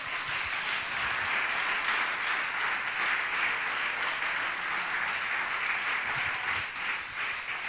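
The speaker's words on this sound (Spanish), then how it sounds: "Le puede dar un fuerte aplauso a ese Dios grande." Steady, full applause from a large church congregation, continuous and loud throughout with no talking over it.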